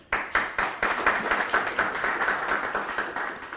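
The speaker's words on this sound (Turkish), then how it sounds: "ekibi alkışlamak istiyorum burada" An audience at Anadolu University applauds the project team behind software that measures music perception, a close, loud burst of many hands clapping steadily with a few distinct sharp claps, and no talking.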